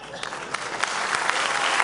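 Audience applause at a talk on copyright and general computing, a steady wash of many hands clapping that swells slightly toward the end.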